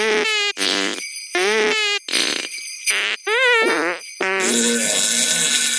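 Recorded human farts played back through a phone as a prank ringtone: a run of loud, squeaky, tonal blurts with short gaps between them, ending in a long buzzy trailing rasp, with no talking over them.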